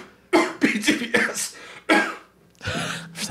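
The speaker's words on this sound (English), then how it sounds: "I thought you were having a coughing fit." Several sharp, close coughs and throat-clearing bursts in a quick irregular series, then a pause and a final rougher cough, loud against a quiet room.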